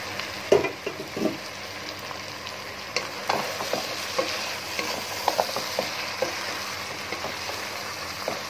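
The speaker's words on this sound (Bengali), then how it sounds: "ঠিক ভালো করে কষানো।" Meat with coconut is sautéed and stirred in a pot, giving a continuous close sizzle broken by spoon scrapes and clinks against the metal.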